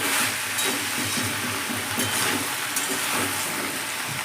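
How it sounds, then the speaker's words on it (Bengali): A pumpkin and chickpea curry sizzles and hisses steadily in a pan while it is stirred, a dense, even frying noise filling the whole stretch with no talk. "ছেড়ে দেওয়ার পর আবারও নেড়ে নিচ্ছি।"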